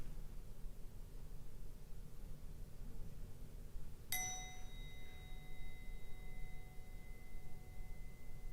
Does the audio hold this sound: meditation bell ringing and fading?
yes